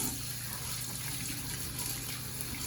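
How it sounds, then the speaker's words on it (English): A modern Tudor watch is washed with lukewarm water and hand soap under a running tap, making a steady, close rush of flowing water with no talk. "I use lukewarm water and hand soap to wash."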